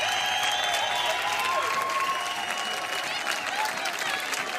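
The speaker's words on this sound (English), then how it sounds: "They're clapping." Steady audience applause and clapping fills the scene from start to finish at an even, fairly loud level, with faint voices and tonal sounds mixed in beneath the dense clatter.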